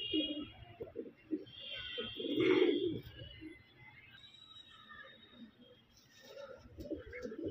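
Soft, throaty cooing of pigeons repeats in short bursts, close by, with one louder rolling coo in the middle and faint chirps above.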